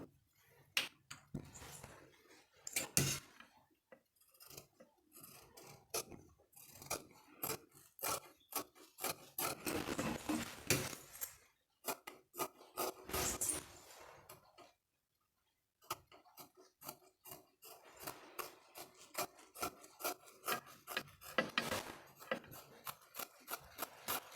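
Scissors cut through blouse fabric in quick, close, rhythmic snips, forming bursts of crisp cuts separated by short pauses, with no talk.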